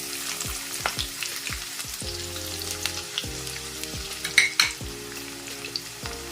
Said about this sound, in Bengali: কড়াইতে এবারে আমি ওই তেলের মধ্যে দিয়ে নিচ্ছি একটু গোটা বড় মশলাটা তারপরে দুটো শুকনো লঙ্কা দিয়ে আমি পেঁয়াজটা ছেড়ে দিলাম